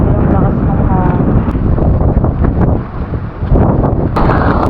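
Strong wind buffets the microphone at a rainy beach campsite, a loud, roaring gusty rumble throughout, rising and falling with brief lulls.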